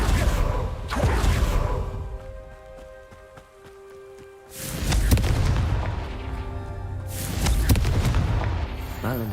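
A Confringo fire-blast spell in Hogwarts Legacy goes off as a pair of loud, booming explosions with whooshing bursts, separated by a quieter stretch of lingering rumble and game ambience.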